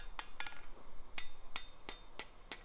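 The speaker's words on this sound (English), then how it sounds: "we're going to stick it over the edge of the anvil and pay real close attention to what my hammer hand is doing" A hammer strikes a metal scroll on the edge of an anvil, about eight crisp, ringing blows at a steady, unhurried pace, close but fairly quiet, with no voices.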